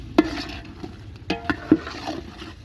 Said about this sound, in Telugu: ఇప్పుడు ఈ చికెన్ మనం మంచిగా కలుపుకోవాలండి